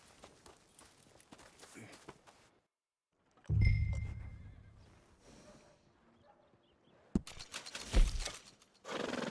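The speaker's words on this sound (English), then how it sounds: "I got a fella who's been looking for a decent workhorse like this for a while" In Red Dead Redemption 2, a workhorse whinnies and snorts close by among scattered hoof sounds, with quiet gaps between the bursts and no talk.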